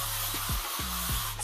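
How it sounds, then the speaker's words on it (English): Chi Helmet Head Extra Firm hairspray sprays out in several short bursts close by, each a brief airy hiss, with no talking. "I'm gonna go in with the Chi Helmet Head Extra Firm Hairspray."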